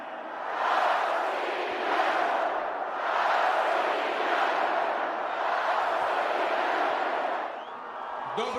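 A crowd of tens of thousands chants in unison in Moscow's Luzhniki Stadium, a huge roaring wall of voices swelling in repeated waves, distant and reverberant, fading slightly near the end.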